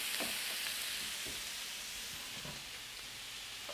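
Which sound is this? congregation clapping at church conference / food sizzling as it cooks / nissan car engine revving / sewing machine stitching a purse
food sizzling as it cooks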